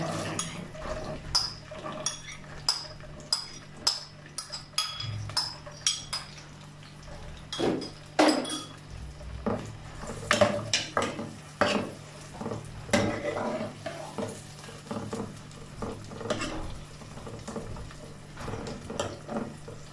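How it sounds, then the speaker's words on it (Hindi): Onions frying in hot oil for chicken korma, stirred with a spoon: repeated metallic clinks and scrapes against the pot in an uneven rhythm over a soft sizzle, close by, with no talking. "ऑयल गर्म हो चुका है, अब हम प्याज शामिल करेंगे।"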